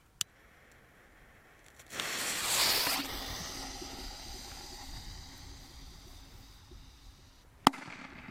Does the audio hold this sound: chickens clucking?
no